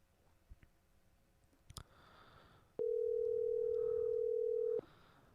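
A telephone dial tone sounds while calling a donut shop, a steady, clear tone lasting about two seconds, preceded by faint handset clicks and soft background noise.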